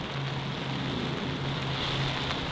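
Steady rain falls across an outdoor golf course, a dense even hiss of drops with a faint low hum underneath and no talking.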